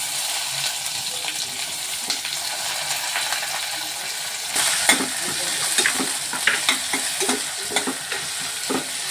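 Onion and curry leaves frying in oil for a sprouted green moong bhaji, a steady close sizzle with scraping stirs and small clinks of a spoon against the pan, growing busier partway through.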